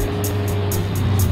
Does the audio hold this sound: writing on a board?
no